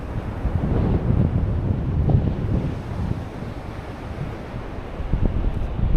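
Waves breaking on a beach during a family beach holiday, heard as a steady, loud rush of surf mixed with heavy wind buffeting the microphone, with no clear speech.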